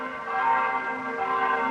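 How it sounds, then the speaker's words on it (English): Church bells in a video game chime in a steady, sustained ringing tone with overlapping resonant strikes, loud and close, with no voices over them. "the bells that play at the church are very similar to the sound of the girls singing"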